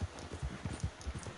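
Horse hooves clip-clop in a steady, quick rhythm in Red Dead Online, a stamina-styled mount trotting with soft, close, regular thuds and no talk.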